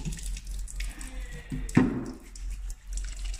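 Tap water runs into a sink while hands are washed, a soft steady trickle with a brief louder splash partway through, heard close and alone.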